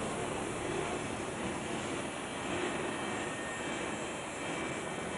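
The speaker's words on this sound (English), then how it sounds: "please remain safe until the plane has come to complete stop" An airliner rolling to a stop after landing in Indonesia: a loud, steady engine roar and whine held evenly throughout, with no voices.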